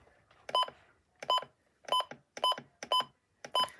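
Electronic beeps from a NOAA weather radio as its menu button is pressed, six short bright tones spaced roughly half a second apart, close and clear against a quiet background.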